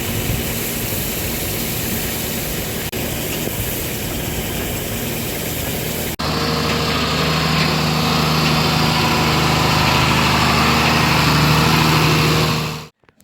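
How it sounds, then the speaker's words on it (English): A new 175 hp mixer tractor runs at a steady idle near a dairy barn, a continuous low engine drone that grows slightly louder partway through before cutting off abruptly at the end. "So Jake is trying out the new mixer tractor."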